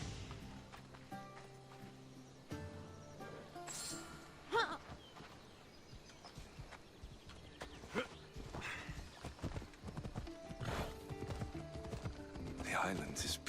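Horse hooves clip-clop steadily during a ride in the video game Assassin's Creed Odyssey, with occasional whinnies, under a music bed and spoken dialogue.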